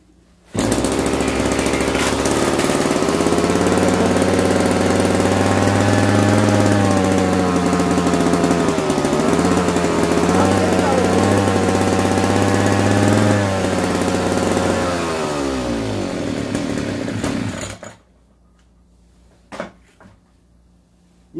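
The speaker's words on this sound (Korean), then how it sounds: "먼저 애초기가 있는데, 이 시동을 먼저 한번 걸어 보겠습니다" A gasoline brush cutter engine starts and runs loud and close, holding a rough, rattling idle with slight rises and dips in speed for about seventeen seconds, then cuts off into near silence.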